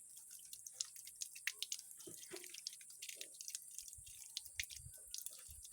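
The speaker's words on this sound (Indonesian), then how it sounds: "Kita cuci di air mengalir saja." A caladium tuber is washed under running tap water. Soft, irregular splashes and drips patter against a faint steady hiss of flowing water, close and quiet, with no talking.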